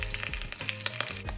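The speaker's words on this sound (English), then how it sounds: "I thought it would be kind of cool for a garnish just to like fry up some crispy chicken skin." Chicken skin fries in a tablespoon of olive oil over medium-high heat, giving a close, crackling sizzle with quick irregular pops, moderately quiet and without talking.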